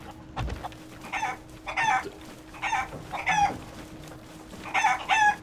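A chicken in the video game Sea of Thieves clucks repeatedly in short, regular bursts, close and clear, with nothing else notable around it.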